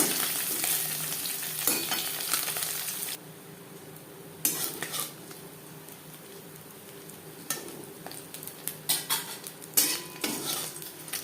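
Small puti fish sizzle steadily in hot oil in a pan, with a spatula scraping and utensils clinking loudly in intermittent bursts close by.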